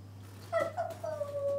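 A person imitates a wolf howl during a fantasy tabletop role-playing game, giving one rising, wavering vocal cry that sustains and glides for about a second, faint and close with no other sound.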